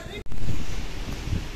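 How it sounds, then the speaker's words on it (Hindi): Strong gusts of wind batter a phone microphone outdoors near swaying trees and a dusty road, producing a loud, continuous roaring buffet with one brief dropout. "बहुत ही देखो बहुत ही ज्यादा तेज हवा चल रही है"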